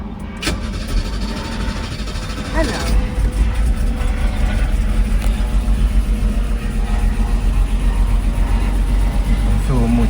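A Mercedes R107 280SL with a repaired fuel distributor starts and settles into a steady, loud idle near 900 rpm, its continuous engine rumble running the whole time beneath a man's speech.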